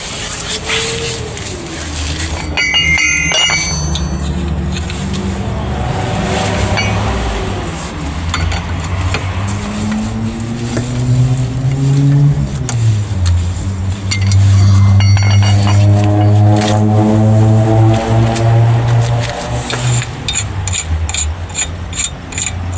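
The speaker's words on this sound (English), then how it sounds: "let's put on the wheel and let's tighten it up" A car wheel being refitted and its bolts tightened after an outer CV joint repair: loud, close ratcheting clicks and whirring mechanical runs, with occasional metallic clinks and no talking.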